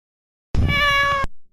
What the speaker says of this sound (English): there's the cat sound, 16-bit sound effects